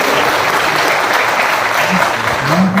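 Crowd applause at a political party workers' gathering in Uttar Pradesh, loud continuous clapping throughout, with a voice faintly audible near the end.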